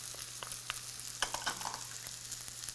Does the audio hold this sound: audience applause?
no